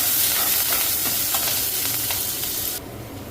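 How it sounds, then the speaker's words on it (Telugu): Cumin, chana dal and urad dal frying in hot oil as a tempering, a dense continuous sizzle with light crackles, close and loud, cutting off abruptly near the end. "జీలకర్ర, పచ్చిశనగపప్పు, మినపగుళ్ళు ఫ్రై చేసుకోవాలి."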